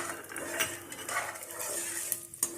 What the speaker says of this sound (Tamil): இப்போ அதே நெய் அல்ல கொஞ்சம் நட்ஸும் நான் கொஞ்சம் ஃப்ரை பண்ணிக்க போகிறேன்